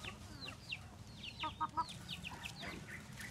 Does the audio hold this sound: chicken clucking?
yes